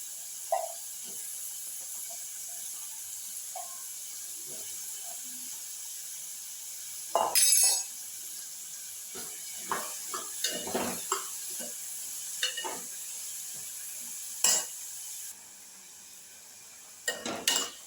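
Quiet, steady sizzle of vegetables for a potato and carrot stir-fry frying in oil in a pan, broken by scattered clinks and scrapes of a utensil stirring against metal.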